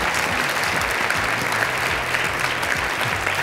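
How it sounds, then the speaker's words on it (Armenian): An audience at a gala concert of a national singing contest applauds: thick, steady clapping from many hands, sustained for a few seconds at an even level. "Ծափարություններով ճանապարհում ենք"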